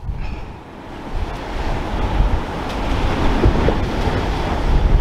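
Strong wind buffets the microphone at a seaside spot at night, a dense continuous roar with surf-like swells that builds slowly toward the end. No one speaks.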